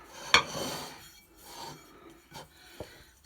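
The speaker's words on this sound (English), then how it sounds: "Now this is olive oil in here, and I'm just going to rub it around" A hand rubs olive oil around a dish before torta dough goes in: a sharp scrape at the start, then soft rubbing and light clinks that fade in and out, close by.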